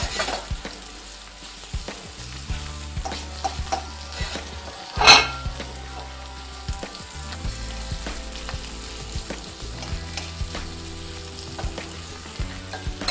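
Thin floured chicken breasts frying in a pan: a steady close-up sizzle with occasional clicks and one sharp clatter of cookware partway through, no talking.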